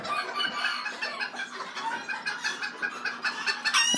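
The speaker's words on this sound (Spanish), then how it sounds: "Muy bonito ese gallito." Rooster or young cock of a show-breed flock, such as a buff with ash-grey tail, crowing and clucking steadily among other chickens at a poultry breeding farm, with continuous layered bird calls close by.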